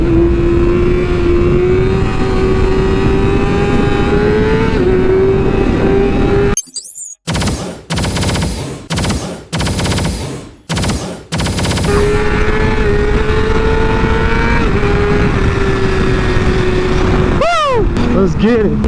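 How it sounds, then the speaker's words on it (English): Suzuki GS500F motorcycle and a custom chopper riding together, engines droning loud and steady with revving pitch rises, broken midway by a burst of hard rapid popping or wind buffeting before the engine drone returns. "My boy Chuck out here on the GS500F like you've already seen."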